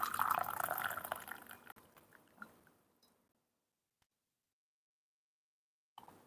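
Hot water poured off oolong tea leaves during a Chinese Xuepian Dancong oolong tea ceremony makes a loud, splashy liquid rush for under two seconds. It tapers into a few soft drips, then silence, with one small clink at the end.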